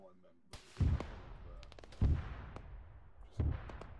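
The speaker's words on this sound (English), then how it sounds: "Oh, that's an artillery piece coming in." Incoming artillery in the military video game Arma 3 lands as three heavy, rumbling explosions spaced roughly a second apart. Sharp, scattered gunshot cracks sound between the blasts, and each boom decays into a low roar.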